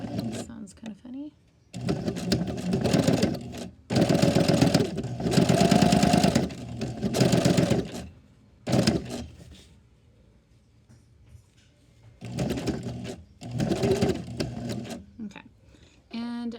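A sewing machine stitches quilt binding around an inward corner at a regular 2.5 stitch length, in several loud whirring bursts broken by short quiet pauses, heard close up.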